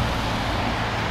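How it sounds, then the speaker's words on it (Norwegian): Road traffic near Magerholm in Ålesund on a foggy, rainy day, a continuous broadband roar of passing vehicles, steady and fairly close with no talking. "Mykje trafikk også."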